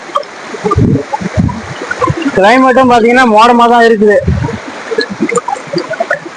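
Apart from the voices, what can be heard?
stream of flowing water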